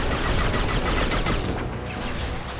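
Gunfire in Mass Effect 2, a dense, loud burst of rapid shots and impacts crackling continuously, slightly easing in the second half.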